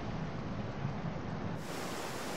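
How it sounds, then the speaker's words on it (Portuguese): Water sounds in God of War: Ghost of Sparta, a steady broadband wash like waves or flowing water that brightens partway through as the player draws nearer, with no talking. "O som da água tá legal também"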